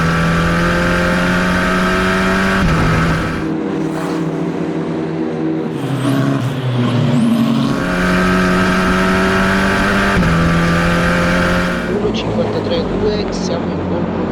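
Formula 4 race car engine on a push lap, a loud onboard whine rising through the gears with sharp drops at each shift, under radio chatter.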